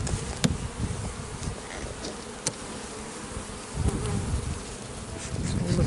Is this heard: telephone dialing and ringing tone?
no